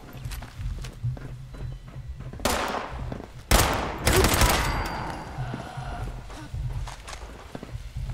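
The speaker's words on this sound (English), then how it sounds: "you can actually hear the echo from the gunfire" Gunfire in the Fallout 76 video game: a few sharp, loud shots and short bursts ring out in the middle, each trailing into a reverberant echo over quieter background ambience.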